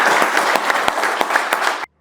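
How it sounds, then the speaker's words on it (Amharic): Audience at a project handover ceremony in Ethiopia applauds, a dense burst of clapping from many hands that stays strong for about two seconds, then cuts off abruptly into silence. "አጨብጭቡ"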